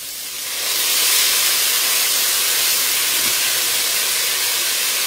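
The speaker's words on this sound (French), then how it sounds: "On va déglacer avec un tout petit peu de cognac." Cognac hitting a hot cast iron casserole while deglazing, a loud steady hiss and sizzle that swells up within the first second and holds, close and alone.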